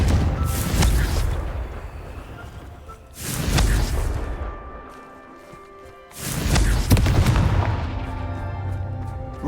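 Explosive fire spell blasts in the video game Hogwarts Legacy: three loud booming bursts a few seconds apart, each with a crackling roar that slowly fades, with no talking.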